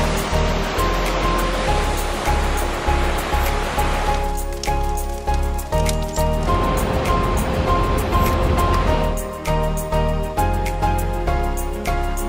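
Sea waves surge and break in a steady rhythm over a continuous rush of a waterfall on the Azores coast, loud and close with no voices.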